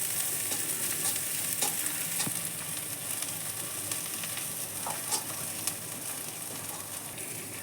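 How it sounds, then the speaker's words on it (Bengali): Onions fry in oil in a pan, giving a loud, continuous close sizzle while a spoon stirs them with scattered scrapes and clicks against the pan. "পেঁয়াজটা লাল লাল করে ভাজা হয়ে যাচ্ছে, পেঁয়াজের রং চেঞ্জ হয়ে গেছে অনেকটা।"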